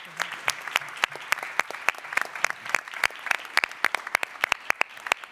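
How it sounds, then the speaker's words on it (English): Applause for the speakers of a panel at a culture summit, a sparse, uneven round of sharp individual claps from a modest audience, some loud and close, continuing for several seconds with faint murmuring beneath. "I will ask for a big applause for our speakers"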